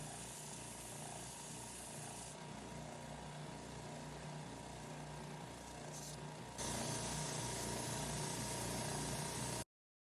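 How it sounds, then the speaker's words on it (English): An oscillating belt sander works small wood strips for twin bed headboards, giving a steady, loud, close grinding whir that jumps a step louder partway through and then stops abruptly. "take them to the oscillating belt sander to sand them down to my line"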